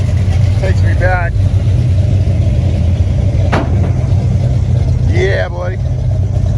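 A Chevy Luv muscle truck idles at a classic car rollout. Its steady, loud, low rumble continues throughout, while faint voices or chirps briefly rise above it.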